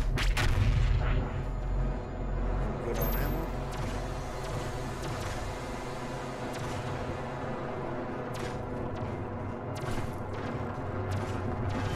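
The BFG 10000 super-weapon fires in Doom Eternal, a deep, sustained rumbling boom that stays loud and dense throughout, with sharp crackling bursts scattered on top and no talk over it.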